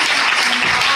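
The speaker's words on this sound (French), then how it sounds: "On va applaudir notre équipe" Audience applause for the festival team at a television fiction festival ceremony, a dense steady clapping that fills the whole moment, loud and close without pause.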